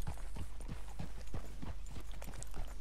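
Hooves of a black Arabian horse clip-clop at a steady walking rhythm in Red Dead Redemption 2, a series of evenly spaced soft thuds heard close over a low background hum.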